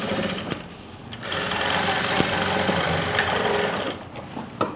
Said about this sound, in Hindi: पहले इस साइड से मैं सिलाई लगा लेता हूँ।